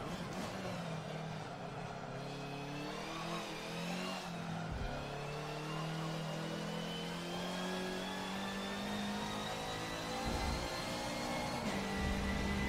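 Race car engine in a racing game revving through rising and falling pitches as gears shift, steady and close with brief throttle lifts.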